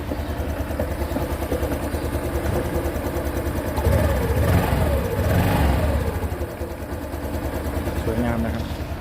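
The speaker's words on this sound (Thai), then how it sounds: "อันนี้ลองเครื่องแล้วนะครับ เครื่องเงียบกริบเลยนะครับ เป็นเครื่องตัวใหม่นะครับ" A new 2023 Honda Wave 125i motorcycle idles close by with a quiet, steady engine hum that swells slightly midway, while someone talks over it.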